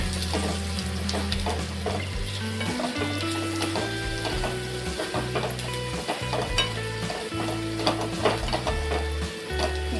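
Onions with turmeric and garam masala are stirred in a hot pan while they sizzle steadily, and a spatula scrapes and taps in an irregular rhythm over low background music.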